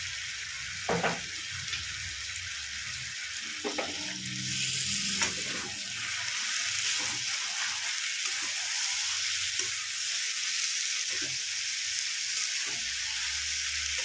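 Ghee sizzles and fries steadily in a pan of cabbage with fish head, a continuous hissing crackle with occasional stirring clinks, close and fairly quiet.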